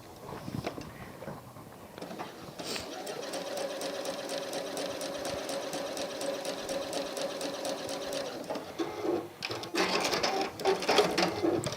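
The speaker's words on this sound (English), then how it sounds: "we're going to sew on that diagonal line." Sewing machine stitching a diagonal line across a fabric square for a bloom wall hanging, a fast, even mechanical chatter running close and steady for several seconds, stopping, then resuming briefly among soft handling noises.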